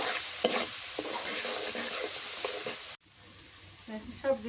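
Onion and garlic paste frying in hot oil with turmeric and vegetables, a steady loud sizzle with spoon scrapes, then a brief cut and quieter hiss with stirring clatter toward the end.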